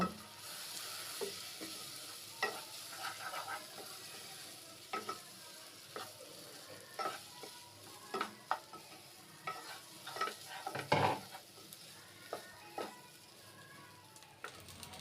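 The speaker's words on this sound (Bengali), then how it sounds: "এখন ওই মশলার মধ্যেই চাল দিয়ে দিব চাল ডালটাকে ভালো মতো ভুনে নিব" Rice and lentils being fried in spices for egg khichuri, with frequent scraping stirs of a spatula against the pot over a steady soft sizzle, the strokes coming in irregular bursts close by.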